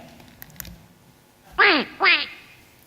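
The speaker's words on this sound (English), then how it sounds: "It sounds like a duck." A duck gives two loud, close quacks in quick succession after a quiet stretch with a few faint clicks.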